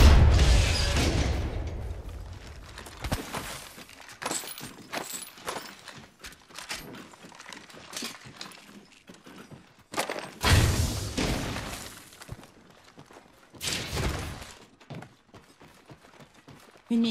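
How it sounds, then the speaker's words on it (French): Supply cache being blown open in Apex Legends, with a loud burst and thumping impacts followed by scattered clanks, shattering hits and further bangs in irregular bursts across the stretch, no voices. "Attention, je vais faire sauter cette cache."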